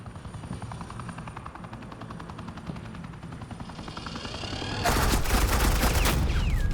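Gunfire in Batman: The Enemy Within, Episode 5, during a suppressing-fire sequence, starts low under a droning helicopter-like hum and then turns into loud, dense bursts of shots over the engine noise.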